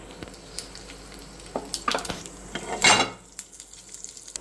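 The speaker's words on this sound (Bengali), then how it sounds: "এবার এর মধ্যে দেবো কারি পাতা, সর্ষে আর একটু জিরে।" Curry leaves, mustard seeds and cumin hit hot mustard oil in a kadai, giving a crackling sizzle with scattered pops and clinks that swell into a loud spattering burst midway, then settle back to a low fizz.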